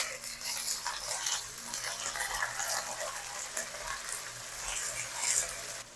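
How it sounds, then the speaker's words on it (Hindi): Garlic ginger paste fries in a pan for a mutton marag, giving a steady, continuous sizzle with faint stirring scrapes throughout. "लहसुन अदरक को भी तकरीबन 1 मिनट तक फ्राई कर लिया है"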